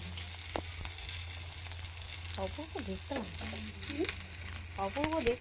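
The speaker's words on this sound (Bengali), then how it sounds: "আর এক এক করে পাতুরিগুলো ভেজে নেব।" Egg paturi frying in hot mustard oil in a wok, a steady close sizzle running throughout, with faint clinks of utensils and brief background voices toward the end.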